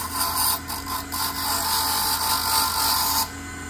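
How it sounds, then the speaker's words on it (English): A freshly cut duplicate key is deburred on a key-cutting machine, giving a close, steady high-pitched grinding whir with brief dips before it cuts off near the end. "Now I'm going to take this one out and deburr it."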